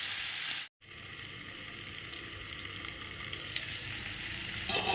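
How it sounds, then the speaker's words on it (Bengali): Vegetables fry in a covered pan, giving a steady, close hiss and sizzle that breaks off for a moment and then carries on evenly. A brief clatter comes near the end. "এই যে আমি সবজিগুলো যে ভাজছি"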